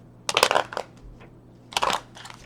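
Tarot cards shuffled by hand in two quick, crisp bursts of riffling close to the mic, with a low steady hum underneath.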